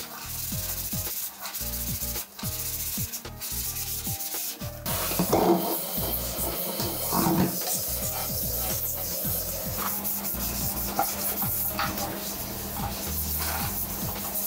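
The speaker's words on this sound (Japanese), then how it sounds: "またほんの少し洗剤をつけて磨いていきますね。" A Daiso sponge with a little detergent scrubs soap scum in a bathroom, making close, repeated rubbing strokes in an irregular rhythm throughout with no talking.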